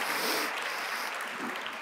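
An audience applauds at a librarian award ceremony. The clapping is a continuous, even wash of moderate loudness that carries on throughout with no pauses.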